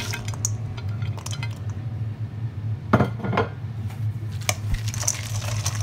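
Celery and fried cashews being stirred in a pan, with soft scraping and clinking of a utensil against the pan over a steady low hum, sharpened by a few louder knocks.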